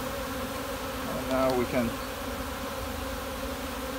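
Honey bees buzz steadily inside a hive box during a mite check, a continuous low drone at close range with a short louder swell partway through, while a person talks briefly over it.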